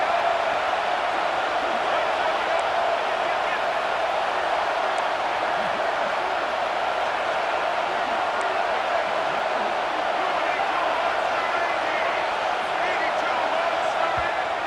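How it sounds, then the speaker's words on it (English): A stadium crowd in the EA Sports College Football 26 video game roars as a steady, unbroken wash of noise, rising in support of the defense. "This crowd rising up, sensing that its defense needs some help."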